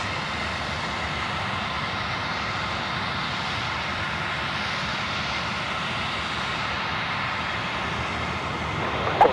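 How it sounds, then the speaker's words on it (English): Airliner taking off slowly at Sydney airport, a steady loud jet engine roar that holds constant throughout with no talking. "it looks like a very sluggish takeoff"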